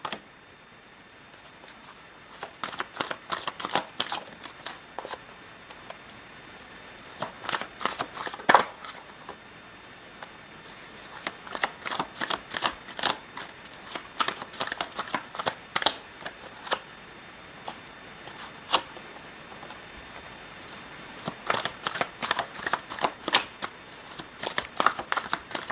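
A deck of tarot cards shuffled by hand in repeated riffling bursts of crisp, rapid flutters at close range, separated by short pauses, over a steady faint background hum.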